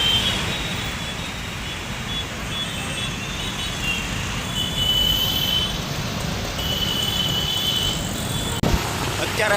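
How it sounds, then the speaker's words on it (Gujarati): Night road traffic in Surat heard from inside a moving car crossing a bridge by the Tapi river, a steady broad rumble of engines and tyres with faint horn-like tones, continuous and fairly loud throughout. "જોઈ રહ્યા છો સુરતનું ટ્રાફિક"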